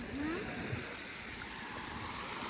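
Fresh, cold spring water flows at Lio Springs as a faint, steady wash of gurgling stream noise, with a brief squeaky sound near the start.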